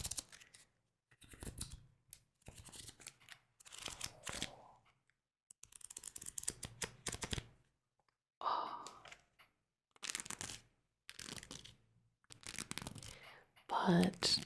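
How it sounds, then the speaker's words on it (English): Sleeved trading cards are shuffled in quiet, close bursts of crisp plastic riffling and sliding, separated by short pauses, with soft whispered talk between them. "Shuffle it. Shuffle the sleeves around."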